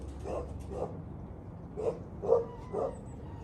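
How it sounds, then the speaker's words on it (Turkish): A dog barks several times in short separate bursts, moderately distant, over a low background rumble, near a pigeon loft. "köpek ne çok havlıyor"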